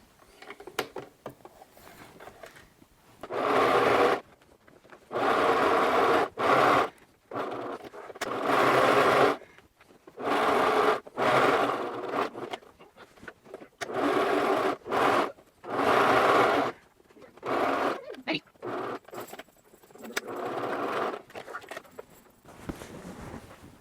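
A sewing machine stitches fabric in repeated bursts of rapid mechanical whirring, each lasting one to two seconds, separated by short pauses and small handling clicks.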